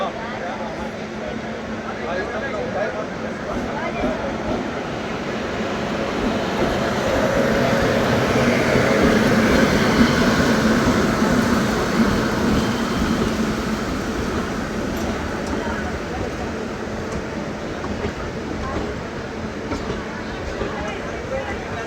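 The Veraval–Rajkot passenger train arrives at Bhaktinagar station on a single-line route, a continuous rumble that swells toward the middle and eases off while staying loud.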